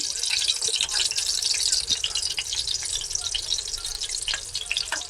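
Butter sizzles in about three spoons of hot oil in a home kitchen pan, a steady, crackling hiss with small popping spatters, close and moderately loud.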